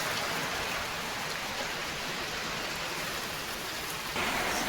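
Steady rain pours down, a dense hiss of drops pattering on surfaces with no voices, growing slightly heavier near the end.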